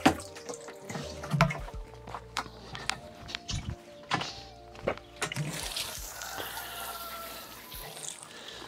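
Water poured from a can or hose onto plants in a dry allotment plot, with splashing and trickling broken by clunks and handling knocks, close by and moderately loud.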